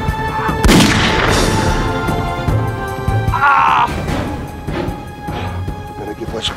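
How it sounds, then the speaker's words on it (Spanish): Gunshots crack in a dramatic film scene, a loud sharp blast followed by further bangs and impacts amid shouting voices and scuffling noise, close and chaotic. "No, no parece, fueron balazos."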